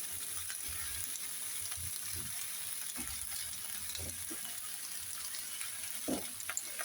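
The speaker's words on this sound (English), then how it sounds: "And throw my mushrooms in. Mushrooms take up a lot of room in the pan" Mushrooms fry in a pan for a chicken and lentil curry, a soft continuous sizzle with occasional light knocks of stirring, fairly quiet and close.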